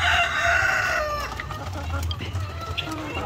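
Chickens in a Philippine backyard coop cluck and squawk, a rooster-like call rising briefly early on, then scattered nearby clucks over low rumbling background noise.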